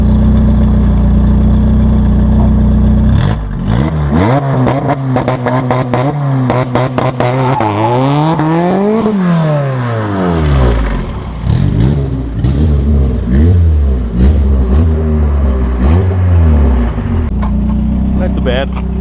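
A 1991 Honda CRX with Hasport mounts sits at a loud steady engine drone, then revs repeatedly against two-step launch control set near 3,800 RPM, pitch sweeping up and down with popping bursts, close and loud, before settling back to idle, with talk over it.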